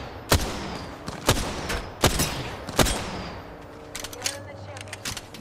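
Apex Legends gunfire: four loud, evenly spaced single shots crack about once a second, followed by quieter scattered pops and game effects under a low background hum.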